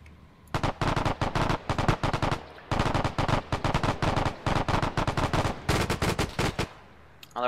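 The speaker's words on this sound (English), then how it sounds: "have these guys try to follow the bullets here. At least the gunshots" Rapid bursts of machine gun and rifle fire in the World War II shooter game Iron Front, loud and close, several sustained volleys separated by short pauses.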